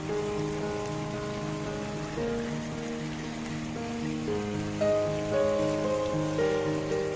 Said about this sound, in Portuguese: essa chuva no final da tarde desse sabadão